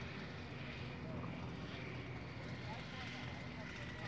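Belite ultralight aircraft flying overhead with a steady, droning engine hum that holds constant over the outdoor air show background, faint and distant.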